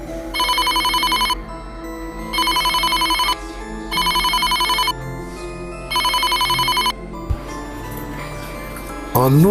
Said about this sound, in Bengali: মোবাইল ফোনের শব্দে